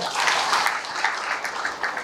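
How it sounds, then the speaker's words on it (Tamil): An audience at a public speech applauds in a brisk burst of clapping with uneven peaks, and a faint voice can be heard under it. "அவருக்கு ஒரு கைதட்டு கொடுங்க"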